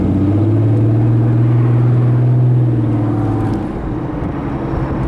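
A supercharged 2001 Plymouth Prowler drives along, its engine giving a loud, close, steady droning hum with road rumble that eases off slightly after a few seconds.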